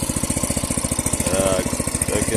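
Forte replacement engine fitted to a Krot motor cultivator runs steadily, a close, loud, fast single-cylinder chug with even pulses and a brief rise in revs midway.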